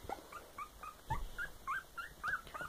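A puppy almost three weeks old whimpers in a series of thin, high, rising cries about every quarter second, faint and close with a soft thump partway through.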